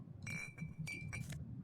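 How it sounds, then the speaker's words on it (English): Glass clinking in the Disco Elysium video game, a few bright close chinks and clinks over about a second above a low background hum. "Glass."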